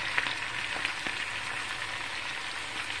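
Potatoes and onions fry in a pan with a steady, dense sizzle as they are slowly turned, faint scraping ticks rising here and there above the constant crackle.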